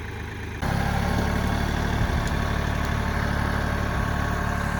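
A tractor engine idles nearby on a rural property, a steady low diesel throb that jumps up in loudness a moment in and then holds an even, continuous rumble, with no voices.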